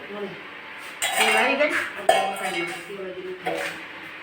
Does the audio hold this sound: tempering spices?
yes